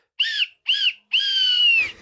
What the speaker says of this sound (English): That was such a terrible whistle